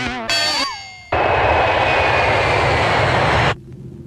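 Airplane engines roaring steadily on takeoff, a loud dense rumble that starts suddenly after a cabin chime and an announcement tone, holds for a few seconds, then cuts off.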